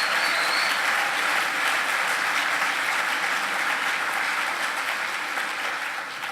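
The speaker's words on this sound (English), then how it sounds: "Yes, please applaud." An audience at a human rights award ceremony applauds, a full, continuous burst of clapping that stays loud and even throughout before easing slightly at the close.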